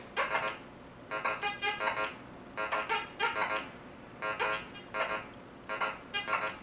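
Repeated short warbling electronic tones from a metal detector, coming in regular bursts of two or three chirps over a low background hiss.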